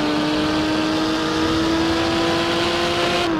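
A Lamborghini Miura P400SV engine in Assetto Corsa revs loud and steady, its tone climbing slowly as the revs build, with no voice over it.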